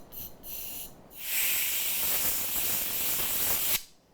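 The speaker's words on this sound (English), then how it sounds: "This is canned air." A can of compressed air sprays in short hissing bursts, then one long, loud, continuous hiss that cuts off sharply, heard close with no talking.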